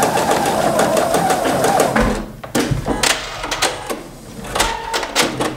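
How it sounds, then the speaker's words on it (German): A domestic sewing machine stitching a seam on a hoodie, with a steady whirring run followed by short stop-start bursts of stitching, close and loud, with no talk. "dann kann ich auch nochmal hier die Naht quer runter steppen"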